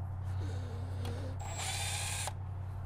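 A Milwaukee M12 Fuel cordless power tool, used on a Lexus IS300 2JZ-GE valve cover job, gives two short bursts close by. A low whir is followed by a higher, sharper run over steady background hum.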